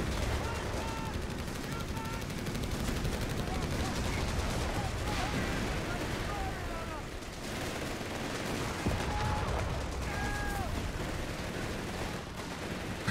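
Dense machine gun fire from several MG positions, MG42 and Vickers, rattles on through a Company of Heroes 3 2v2 battle under constant battle noise, with voices heard briefly over the gunfire.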